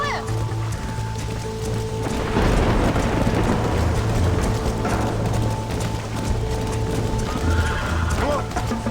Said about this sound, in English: They're spooked! We have to stop the stampeding!